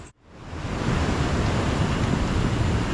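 Sea waves wash steadily onto a beach at night, a broad continuous roar of surf that builds after a brief quiet start and stays loud and close, with no voices.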